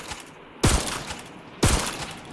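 A VKS49 sniper rifle fires twice in the Free Fire game, each shot a loud sharp crack with a short tail, spaced about a second apart.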